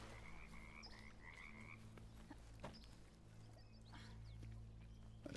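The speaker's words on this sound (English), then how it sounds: "I just heard a frog too." A frog croaks in the video game Bramble: The Mountain King, a few short rasping calls set over a low steady ambient drone, faint and alone with no talk.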